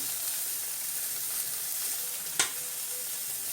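Plantains sizzling in a frying pan over low heat, a steady broadband crackle and hiss throughout with one sharp louder pop near the end, no voices.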